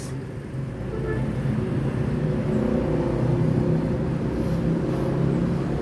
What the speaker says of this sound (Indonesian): Bus yang kelima masuk Terminal Palembang pagi ini.